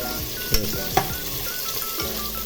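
Chopped onions sauté in a hot pan for a masala base, giving a steady close sizzle broken by a few sharp scraping stirs, with no voices.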